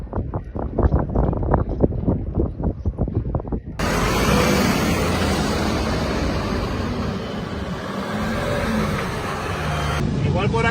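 Strong wind near a wildfire in Spain, a loud, continuous roar buffeting the microphone for most of the stretch, with someone talking briefly before the gusts take over.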